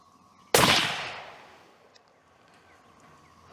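A single loud, sharp report from a Savage 110 Trail Hunter rifle firing 300 WSM Remington ammunition outdoors, followed by a long fading echo and quiet afterward.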